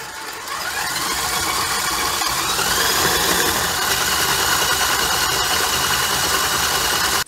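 An electric mixer beats sugar into butter for a marble cake, giving a continuous close whirring motor hum that rises slightly in pitch after starting and runs steadily alone.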